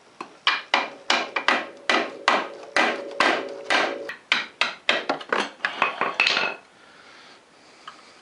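Metal tools prying and banging on the steering stem bushing of a Polaris 400L, a quick series of sharp clanking taps in a steady rhythm that stops abruptly, leaving a quiet tail.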